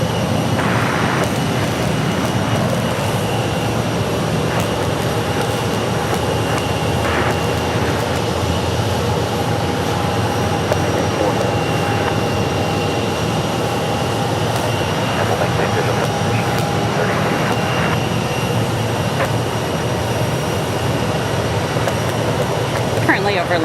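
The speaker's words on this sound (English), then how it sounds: "Get another American Airlines pushback here." An American Airlines jet pushes back on the airport ramp at Phoenix Sky Harbor, a continuous broad engine and ground-equipment roar with a steady hum that holds at an even, moderately loud level.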